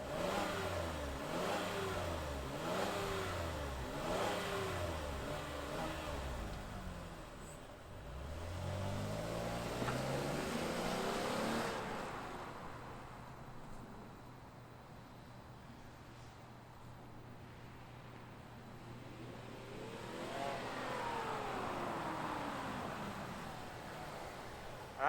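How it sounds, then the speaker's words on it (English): A 2023 Cadillac XT6 Sport's V6 engine fires up and runs, starting with rhythmic revving surges and settling into a steady, close idle hum, with a brief swelling rev near the end. "let's fire up this V6 and hear if it makes any sound"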